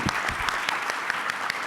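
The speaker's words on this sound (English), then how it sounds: "ladies and gentlemen, a big round of applause for Professor Chan Heng Chee." A conference audience at an economic forum applauds a keynote speaker, producing dense, steady clapping that fills the room without pause, close and loud with no talk over it.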